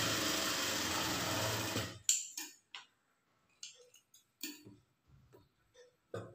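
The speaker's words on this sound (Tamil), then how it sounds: "இந்த மார்க்கிங் நேர் வந்து தையல் போட்டுக்கங்க" A sewing machine runs steadily while stitching a blouse along a marked line, then stops, leaving scattered light ticks and clicks of handling the fabric.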